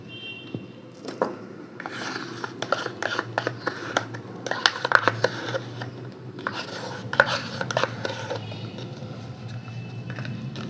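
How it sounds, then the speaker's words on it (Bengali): A utensil beats ice cream in a pan in steady, rhythmic strokes, scraping and knocking close by, with occasional louder clinks. "একটা কড়াইতে আইসক্রিমগুলো ভালো করে ফেটিয়ে নেব"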